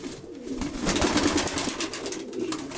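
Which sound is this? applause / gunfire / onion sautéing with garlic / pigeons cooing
pigeons cooing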